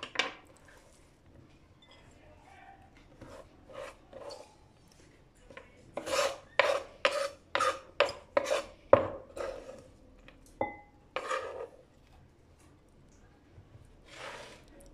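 Wild dandelion greens are chopped finely for a salad, with bursts of quick, crisp knife strokes on a board in clusters between quiet pauses, close and moderately loud, with no talk.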